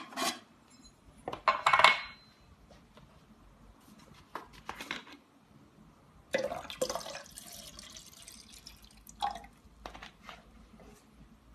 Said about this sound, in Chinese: 第一步我们先给仪器加入纯净水或者是溶液